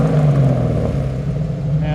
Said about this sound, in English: I want to show that exhaust real quick. And got a great sounding. New exhaust all the way to the back.